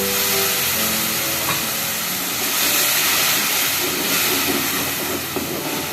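Tomatoes fry with onions in hot oil, a dense, steady loud hiss and crackle running unbroken throughout, with no talk.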